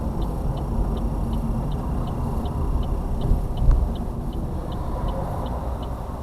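Buses rumbling past a stopped learner car, a steady broad engine and road roar heard from inside the cabin, with the indicator ticking in an even rhythm throughout.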